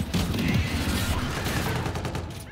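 Sustained gunfire in the video game Call of Duty: Infinite Warfare: dense, continuous automatic fire and rattling shots, loud and close, with no break through the whole stretch.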